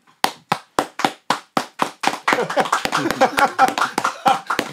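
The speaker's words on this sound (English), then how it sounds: "Can I get a round of applause?" Hand clapping in a UK rap podcast setting: about eight sharp, evenly spaced claps ring out close by, then quicken into faster, overlapping claps.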